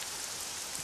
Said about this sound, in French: Disons que il pleut très très fort.